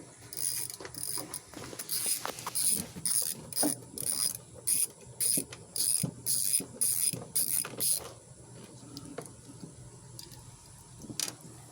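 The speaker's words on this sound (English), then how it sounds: "first you're going to need your 10mm wrench" Ratcheting clicks from a 10mm wrench loosening the starter wire nut on a Troy-Bilt lawn mower's 708cc engine, a close, steady run of quick bursts for about eight seconds, then faint scattered handling taps.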